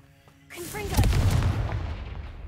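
A Confringo fire spell blasts in Hogwarts Legacy, a loud booming burst that swells up suddenly and rumbles on with a heavy low roar.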